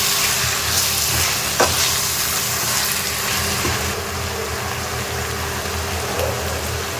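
Prawn gravy ingredients are being mixed in a frying pan: a steady, close sizzle of frying with occasional scrapes and clinks of the stirring spoon throughout.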